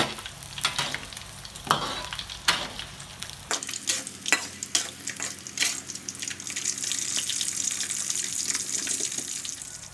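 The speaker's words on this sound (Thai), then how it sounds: "ผัดไปอย่างนี้นะคะ" Pork strips being stir-fried in a pan for a home Thai dinner, with bursts of scraping and clanking over a steady sizzle that grows into a loud, continuous hiss, close by and with no talking.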